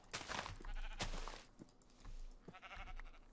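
A sheep in the Minecraft video game bleats several times in a row, short wavering game sound effects that are clear and close with no talk over them.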